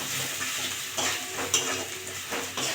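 Ground chilli, coriander, cumin and salt are stirred in a frying pan for aloo paratha filling, with a soft sizzle beneath a few scraping strokes of a spoon against the pan.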